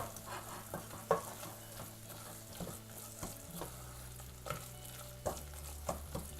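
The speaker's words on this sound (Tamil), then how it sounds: "கலந்து விட்டுட்டு ஒரு நிமிஷம் இது நல்லா வதங்கட்டும்" A sautéing masala of onion, tomato and chili powder in a pan for chicken biryani gives a soft, continuous sizzle with occasional spatula scrapes and taps, close-up and quiet over low background music.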